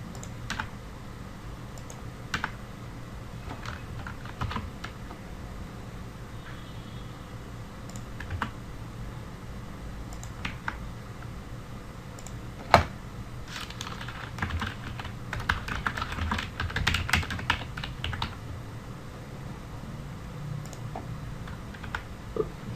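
Steady computer keyboard typing in MS Word, with Enter and Tab keys pressed as a CV is laid out. The clicks are close and continuous, with a few sharper louder strokes and no talking.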